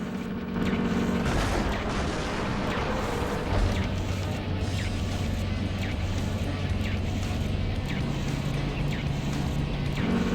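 Artillery fire from an ordered attack in Metal Wolf Chaos XD: heavy booming shots and rumbling blasts repeating over a constant low mechanical drone, with voices mixed in.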